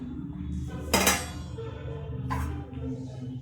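A metal pan is set down on a kitchen stove to heat, with a sharp clank followed by a second, lighter knock a moment later against a quiet background.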